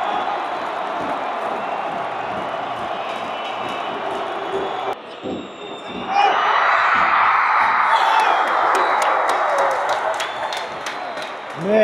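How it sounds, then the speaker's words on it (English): A stadium crowd at a Jordan versus South Korea football match roars in a sustained wash of noise that swells sharply into loud cheering after a goal. A commentator talks over it. "Crowd goes crazy."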